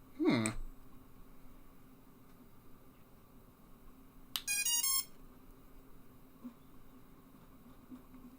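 An electronic speed controller on a 7-inch drone build plays its startup tone: a quick rising chirp at the start, then a short burst of high stacked musical beeps midway, with faint background noise between.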